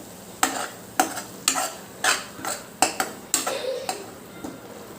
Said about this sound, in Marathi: चांगला मिक्स करून घेऊया